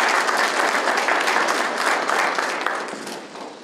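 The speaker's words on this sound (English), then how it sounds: "Give those scholars a round of applause." An audience at a school knowledge bowl awards ceremony gives a dense, steady round of applause for student winners, loud at first and then slowly fading toward the end.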